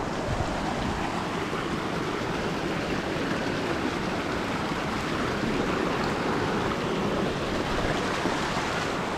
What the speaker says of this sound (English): I've got another creek to cross here.